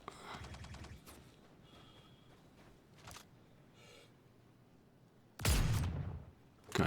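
Rapid automatic turret gunfire in the Star Citizen game, loud staccato bursts at the start, then scattered shots and two heavy, close blasts near the end.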